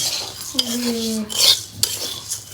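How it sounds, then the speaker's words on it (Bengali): Metal utensil scraping and clinking against a pan while flattened rice (chira) is fried and stirred, with a brief ringing tone early on and a few sharp scrapes, close and moderately loud. "এখানে হচ্ছে চিরা ভাজা হচ্ছে চিরা ভাজা"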